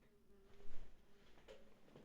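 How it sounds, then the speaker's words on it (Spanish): A bee buzzing close by indoors, a faint, wavering drone that swells briefly and then fades under a low background rumble. "Perdón que hay una abeja acá."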